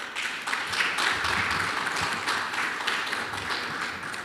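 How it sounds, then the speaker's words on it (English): Applause at a media launch: a room of people clapping steadily for several seconds at moderate volume, with no talk over it. "we need to give her a round of applause for that"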